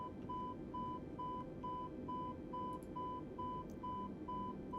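A steady electronic BLC warning beep in a Vought F-8E Crusader cockpit in Microsoft Flight Simulator 2020 repeats in an even rhythm, short tones about twice a second over a constant engine-like hum, with no talking.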